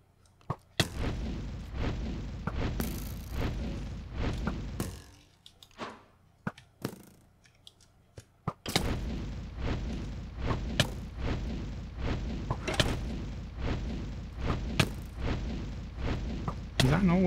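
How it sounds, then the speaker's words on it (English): Rapid game gunfire in a fantasy multiplayer session, a string of sharp cracking shots in two long bursts separated by a quieter pause, fairly close and loud. "someone's shooting at me"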